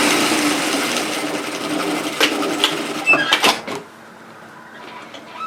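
A sewing machine stitches across the bottom of a large unlined fabric tote bag, a steady close whirring hum that stutters into a few short bursts before stopping.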